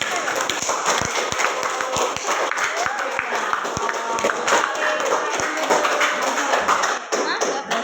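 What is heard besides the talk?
applause for group 1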